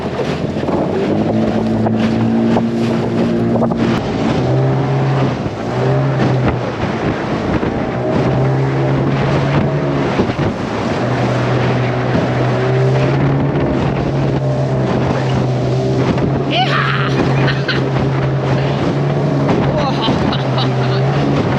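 A tiny 15 horsepower outboard motorboat drones steadily across rough sea, its engine loud and close with wind buffeting and water slapping throughout, and voices talking over it.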